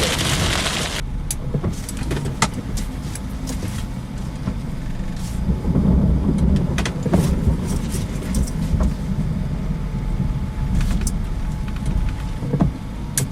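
Very heavy thunderstorm rain in Florida pounds on a car, a dense, loud, constant downpour with scattered sharp drumming hits on the roof and glass.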